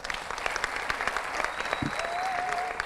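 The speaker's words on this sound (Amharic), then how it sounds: "በድጋሚ አጨብጭቡላቸው" Studio audience applauding for student quiz contestants at a televised question-and-answer competition, a steady, dense clatter of many hands clapping, sustained at even loudness throughout with no talk over it.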